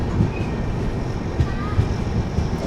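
Tirumala Express passenger train pulling out of Erraguntla junction, a steady close rumble and rattle of the carriage with faint rhythmic clatter from the rails.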